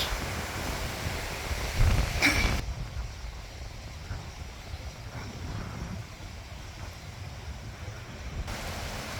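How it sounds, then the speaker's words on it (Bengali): Strong wind blows through an outdoor family park in Doha, Qatar, a broad rushing roar that buffets the microphone, swelling loudest early on, then settling into a steady gusty wash with no talk. "প্রচুর বাতাস"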